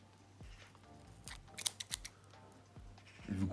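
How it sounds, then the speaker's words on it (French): Scissors snip through transparent tape, several short, faint, close cuts spaced about a second apart in a quiet room. "vous coupez l'excédent sur les côtés"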